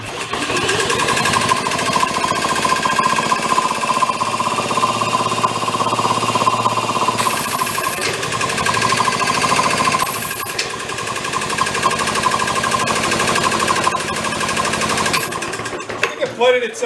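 A Maytag 92 hit and miss engine from a flea market runs steadily with rapid, loud mechanical chugging and rattling, continuous and close for the whole stretch.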